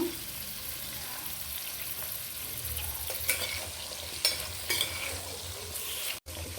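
Vegetable pieces seasoned with turmeric and curry leaves fry for sambar in a pan over a medium gas flame, giving a continuous soft sizzle with scraping stirs and a few clinks of a spoon, and no voices.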